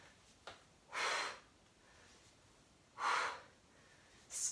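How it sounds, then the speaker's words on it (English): Forceful breath exhalations during kettlebell swings, three sharp bursts of air roughly two seconds apart, close and loud against a quiet background. "Really exhale that air."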